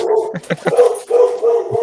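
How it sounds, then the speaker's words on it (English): Several dogs bark in quick, loud bursts during a tabletop roleplaying game session, with uneven yips and barks overlapping close by and no one talking over them. "I sick the dogs on him."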